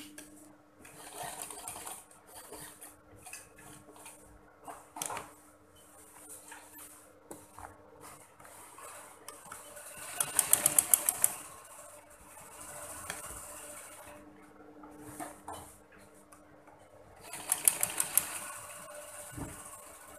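A sewing machine stitches fabric, sewing a triangle on a skirt with bursts of fast, rattling needle action, the loudest runs coming twice, amid quieter handling noise and pauses, heard close with no talking.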